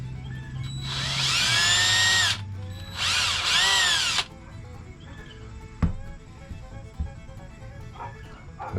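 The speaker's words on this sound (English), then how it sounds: "That's all we're doing, just drilling a hole" Two loud bursts of a power drill whirring as it drills a hole in the center of a 3/4 inch cap, each lasting about a second and a half, followed by quieter clunks and handling noise.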